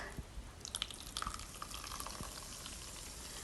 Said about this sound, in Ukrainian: І зараз я буду розбавляти мінеральною водою, сильно газованою.